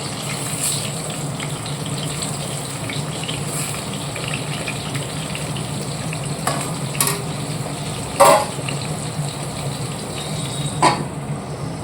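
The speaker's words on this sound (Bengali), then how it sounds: "একটুখানি ভেজে নেবো এই তেলে।" Salted, turmeric-coated eggplant pieces fry in hot oil, with a steady bright sizzle running the whole time and a few sharper pops and crackles breaking through.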